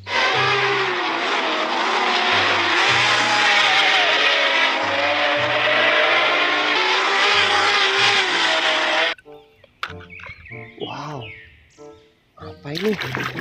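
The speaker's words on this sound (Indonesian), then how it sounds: "Mobil balap." Toy race car giving out a loud electronic revving and racing sound effect with a pulsing low beat for most of the clip, then cutting off into brief scattered noises and speech.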